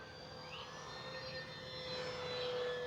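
E-flite P-47 Razorback 1.2 electric RC warbird on 3S 2200mAh packs flying overhead, a steady whining motor and propeller drone at moderate distance that swells slightly louder toward the end, with no talk.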